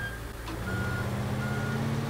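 A truck in the Teardown video game backs up with its reversing alarm beeping steadily, a continuous repeating electronic tone over a low, even engine rumble, with no talking.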